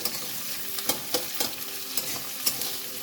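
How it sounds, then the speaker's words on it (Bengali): Vegetables fry in a pan for sabudana pulao, a steady sizzle broken by several sharp stirring scrapes and clinks at irregular intervals, close and moderately loud, with no talking. "সবজিগুলো এগুলো মোটা সবজি তো এই জন্য একটু ভেজে নিতে হবে"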